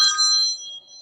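A phone ringtone plays as a short, bright electronic chime of a few high tones that fade quickly, clear and alone.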